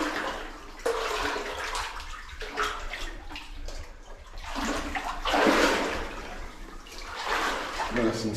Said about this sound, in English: Nice and splashy in here.